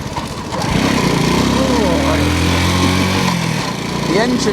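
Honda Cub C90 motorcycle engine running nearby, a loud steady putter that starts up and holds throughout, with the pitch shifting a little as it revs.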